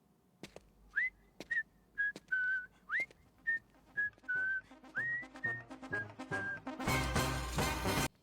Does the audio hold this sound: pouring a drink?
no